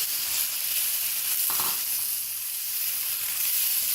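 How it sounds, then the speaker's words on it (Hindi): Chopped onion and capsicum frying in a pan give a steady, fairly loud hiss and sizzle throughout, with one brief stir or clatter near the middle and no speech. "ये मैं प्याज डाल रही हूँ। इसको भी थोड़ा सा फ्राई करेंगे। साथ शिमला मिर्च डालेंगे थोड़ी सी।"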